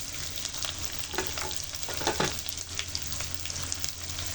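Chopped onions and green chilies sizzle steadily in plenty of hot oil for a dried fish (churi shutki) bhuna, with the loud continuous frying broken by a few stirring scrapes of a spoon.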